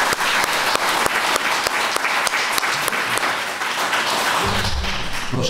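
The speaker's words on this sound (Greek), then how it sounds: "Ένα χειροκρότημα για τους συζητητές παρακαλώ." Audience applause for student debaters at a school Safer Internet Day event, steady dense clapping from a crowd throughout, close and loud, with a brief low rumble near the end.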